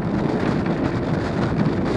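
Steady wind roars against the microphone while riding an electric scooter, a constant low rumbling buffet with no speech.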